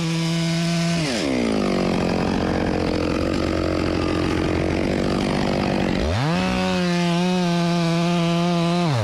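A chainsaw cuts into a walnut log, its engine revving high, dropping to a labored bogging tone as the chain bites the wood, then climbing back to a loud near whine.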